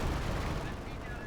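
Anti-tank guns fire in a strategy video game, a dense, steady roar of gunfire and explosions with no pauses.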